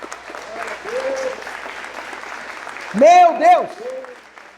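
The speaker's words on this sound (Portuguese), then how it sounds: "Pode aplaudir a ele, pode aplaudir." A church congregation applauds amid a sermon, a moderate wash of clapping beneath emotional exclamations and raised voices that grow loud near the end.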